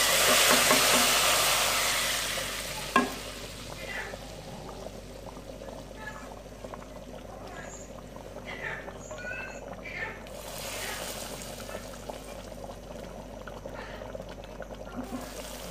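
Round red chillies hit very hot oil for a daal tadka, giving a loud, sharp sizzle that fades after a few seconds into a quieter, steady crackle and bubbling.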